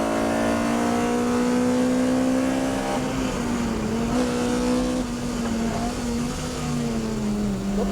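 A Nissan 350Z sports car driven hard by Tsuchiya gives a loud, sustained engine drone from inside the car, with pitch easing and rising as the revs shift while driving; no talking.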